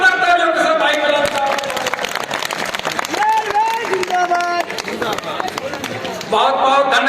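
A crowd at an Indian political rally applauds loudly and steadily, the clapping spread across the gathering, while a voice speaks over it.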